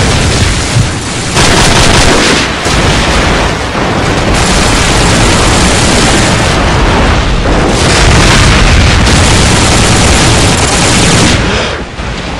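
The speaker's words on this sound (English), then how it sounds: "Friendly airstrike on the way." Airstrike explosions rumble through a Call of Duty 4 team deathmatch: a loud, continuous barrage of heavy booms layered with gunfire, going on for about twelve seconds with no speech.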